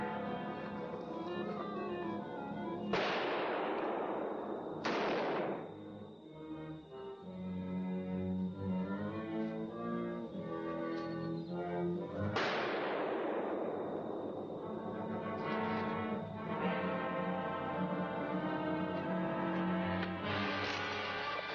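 Gunfire rings out in a few loud, sharp blasts spaced several seconds apart, each one echoing and fading, with a steady background tone running between the shots.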